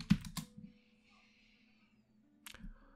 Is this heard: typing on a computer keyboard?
yes